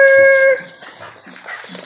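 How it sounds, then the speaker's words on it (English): A small mixed-breed rescue dog, such as a Chihuahua Jack Russell cross, gives a short high whine or yip at close range, followed by faint household rustling. "M&M, MJ, my dancing dogs."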